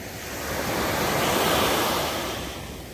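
Night surf at Haeundae beach in Busan, a steady wash of ocean waves swelling and receding with some wind noise, no voices.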